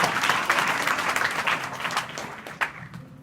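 Loud applause from an audience of schoolgirls at a higher secondary school education programme, a dense steady wash of clapping over about three seconds with no talk.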